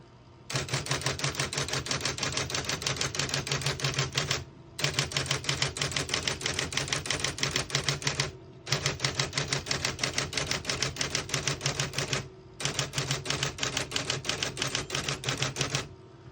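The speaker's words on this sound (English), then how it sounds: "So we're working with basically an electronic typewriter here." Rapid, even mechanical clatter of a 1974 Olympia Report Electric portable typewriter typing in four long bursts separated by short pauses.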